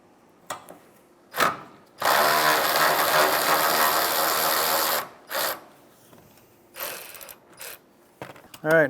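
A ratchet zips out 12mm starter bolts on a 2011-2016 Hyundai Elantra, one long continuous run of rapid clicking in the middle framed by shorter bursts and clanks, close and loud with no talking.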